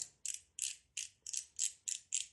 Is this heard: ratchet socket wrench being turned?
yes